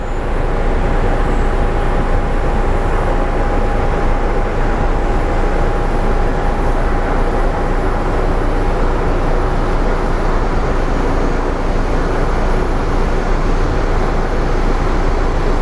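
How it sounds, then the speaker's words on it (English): A Frontier airliner approaching the runway at Phoenix Sky Harbor airport makes a steady, loud broadband roar that holds unbroken throughout, with a faint thin whine running through part of it. "this Frontier is actually approaching this runway really"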